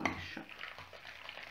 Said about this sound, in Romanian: Amestecăm bine.